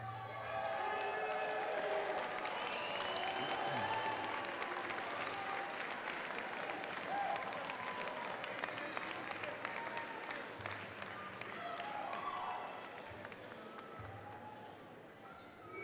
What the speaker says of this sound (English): point at them and give them a round of applause.